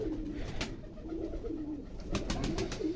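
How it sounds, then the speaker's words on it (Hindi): A Teddy pigeon coos in low, soft, repeated throaty calls, close by, over a steady background hum. "ये टैडी कबूतर है"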